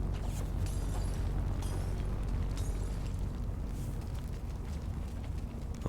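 Firework-like explosions in the Oddworld: Soulstorm video game, a steady dense roar of bursts and crackles with sharper pops early on, loud and continuous throughout.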